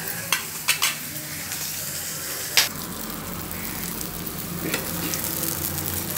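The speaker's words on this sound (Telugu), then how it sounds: "చూడండి, పచ్చిమిరపకాయలు ఈ రకంగా వేగినాయి కదా." Green chillies fry slowly in a pan over a low flame, a steady soft sizzle broken by a few sharp clinks of a stirring utensil against the pan.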